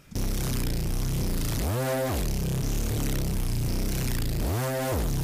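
A dirty neurofunk Reese bass synth, run through a flanger, drones loud and continuous with two sweeping flanger swells rising and falling across it.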